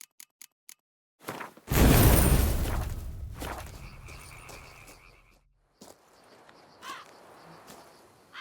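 Crows caw in The Witcher 3, a few harsh calls ringing out after a loud rushing burst of ambient game noise, with faint scattered clicks at the start.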